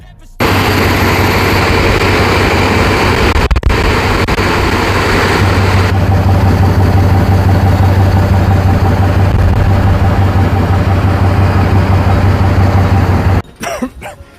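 A car engine roars loud and close after a 4L80E transmission swap, holding a steady, rumbling idle for about thirteen seconds before cutting off, with brief clatter at the start and end.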